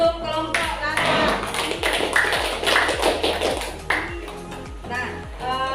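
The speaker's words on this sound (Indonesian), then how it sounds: "kita beri tepuk tangan untuk kelompok latar" A classroom of students claps for a presenting group. The clapping is brisk and fairly close, with a few voices mixed in, and it thins out toward the end.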